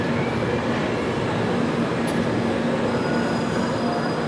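Kolkata–Sairang express train pulling into Bhairabi station in Mizoram, a loud steady rumble of wheels on rails with faint squealing, continuous and close throughout.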